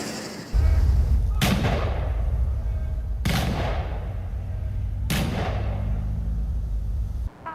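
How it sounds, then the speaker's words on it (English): Three rifle volleys fired at a police officer's funeral in a cemetery, each a sharp, loud crack with a booming tail, evenly spaced about two seconds apart over a low steady rumble. "Those were the rifle volleys and the playing of taps during the ceremony at the cemetery this afternoon"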